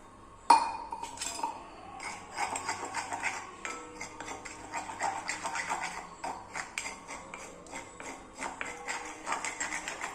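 Tea water being stirred into a homemade hair dye mixture in an iron pan, giving soft, irregular scraping, tapping and clinking of a utensil against the metal pan for several seconds, with no talking.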